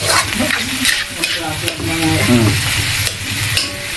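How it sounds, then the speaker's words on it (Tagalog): Shrimp paste sizzles loudly as it is sautéed and stirred in a hot pan while making laing, with continuous close frying crackle and occasional scraping strokes of a utensil. "igisa natin mabuti yan"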